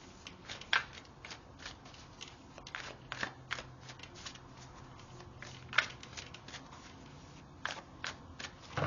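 Moonology Manifestation oracle cards being shuffled by hand, soft, close riffling and slapping flurries scattered over a quiet background, fairly faint.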